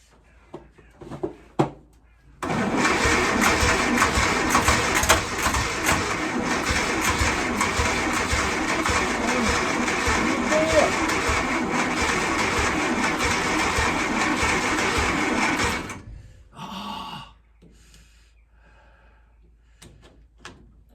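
An engine cranks on its first start attempt, a loud, steady churning that runs about thirteen seconds without catching before it stops, with brief knocks before and after.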